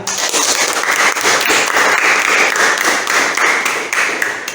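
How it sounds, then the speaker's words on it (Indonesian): A classroom of students claps together enthusiastically, a dense, lively burst of hand claps that rises and holds for several seconds before easing off, close and loud with no talking over it. "Kita semangat dulu dengan tepuk tangan yang meriah."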